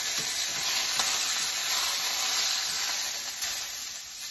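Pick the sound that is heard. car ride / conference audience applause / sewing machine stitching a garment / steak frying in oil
steak frying in oil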